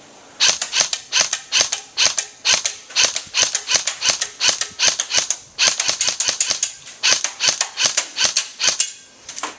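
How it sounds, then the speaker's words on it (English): Rapid full-auto bursts hit styrofoam targets, a dense string of sharp, snappy cracks in quick rhythmic clusters with brief pauses between runs, close and clear. "So what you just saw was me firing at those targets."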